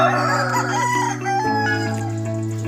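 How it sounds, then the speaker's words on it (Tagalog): Laying hens and a rooster, more than fifty birds on a farm, cluck and crow close by, a loud rooster call rising over overlapping hen clucks in a busy coop. "mahigit na sa 50 50 pieces na manok na pangpaitlog"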